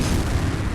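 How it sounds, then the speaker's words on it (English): Plasma cannons firing at wreckage in the space combat game Strike Suit Zero make a dense, continuous barrage of heavy booming blasts, loud and close, with no talking. "Okay, so you remember how to fire your plasma cannons."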